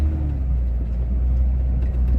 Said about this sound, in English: She's an old truck and she's working hard.